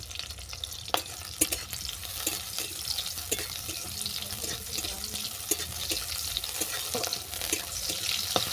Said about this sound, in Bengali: সয়াবিনটাও ভালো করে ভাজা হয়ে গেছে